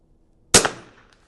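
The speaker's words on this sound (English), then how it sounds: "And we're just going to take a shot here at this," A Vudoo V22S .22LR rifle fires a single sharp shot at a 100-yard range, one loud crack followed by a brief decaying echo, heard alone with no talking.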